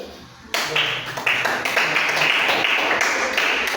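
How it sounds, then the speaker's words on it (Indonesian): A classroom group claps together, an abrupt burst of brisk, close hand claps that keeps going at an even level, with a few voices faintly underneath. "Tepuk tangan."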